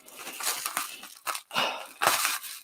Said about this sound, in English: I actually got a pair of scissors. This will work way better.